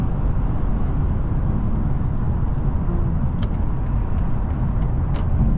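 A 2024 BMW i5 M60 electric car accelerating hard uphill, heard from inside as a dense, steady low road and wind roar with a few light clicks and rattles, and no speech.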